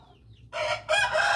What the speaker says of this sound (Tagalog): May isang manok na medyo tumitilaok